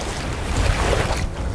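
Rescue motorboat on open water during a water rescue, a steady broadband engine and hull rumble with wind and wave wash, continuous and fairly loud without talk.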